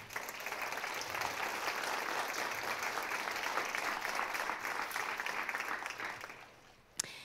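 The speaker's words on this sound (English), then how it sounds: "Let's please give them another round of applause." Sustained applause from an audience, steady and full for several seconds before tapering off at the end.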